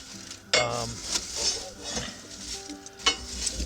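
A metal poker scrapes and stirs compacted coals and ash inside the firebox of a Central Boiler Classic Edge 550 outdoor wood furnace, giving scraping strokes and clinks with sharp metallic knocks near 0.5 and 3 seconds.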